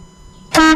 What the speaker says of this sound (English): that's Dave's shiny air horn, so he can tell all the truck drivers to move out the way